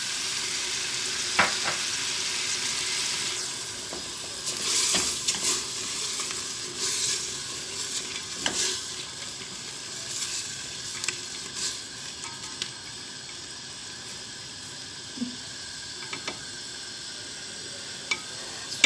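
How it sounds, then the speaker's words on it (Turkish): Onions frying in a pan of vegetable oil for a dry bean stew, giving a steady close sizzle with soft crackles and occasional stirring clicks, no talking over it. "Soğanlarımız kavrulsun"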